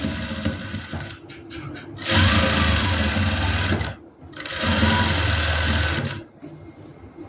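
A sewing machine stitching gum lace onto a garment neckline: two long runs of fast, close, whirring stitching separated by short pauses.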